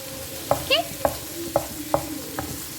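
Onions fry at medium heat in a pan, a low sizzle beneath several distinct spoon clinks and scrapes spaced about half a second apart.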